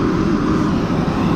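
Steady, loud engine drone of a small propeller plane flying between cities in Kazakhstan, a dense continuous rumble that fills the whole stretch with no pauses.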